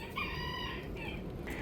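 Chickens in a coop's laying boxes cluck and cackle in several close, drawn-out calls, alone without talk.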